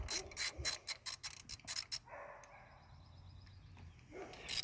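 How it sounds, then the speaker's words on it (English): Pipe wrench working loose the intake studs on a 2.5 Mercruiser engine: a rapid run of sharp metallic clicks and scrapes up close, then a quieter grinding stretch, ending in renewed rattling. "You gotta get the pipe wrench out here and loosen it up just a little"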